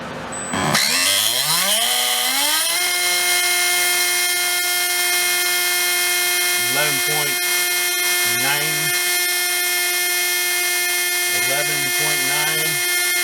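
A small RC brushless motor fitted with an anodized aluminum pinion spins up on manual mode to a steady high-pitched whine. Brief bursts of talk rise over it several times.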